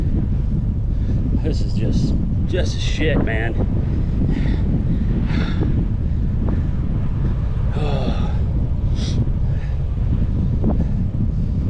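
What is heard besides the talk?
strong wind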